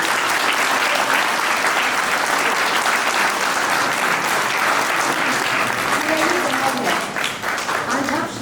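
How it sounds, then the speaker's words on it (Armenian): Audience applause at a first-grade alphabet-book celebration in a school, steady dense clapping from a crowd that fills the whole stretch and tapers slightly near the end, with faint voices mixed in. "դե ուրեմն ծափահարեցինք"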